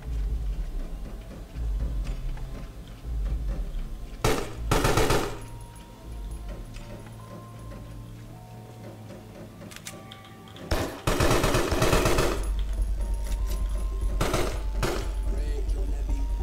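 Gunfire from the Carrion game crackles in several sharp machine-gun bursts separated by pauses, fairly loud over low droning game ambience, with a voice speaking now and then.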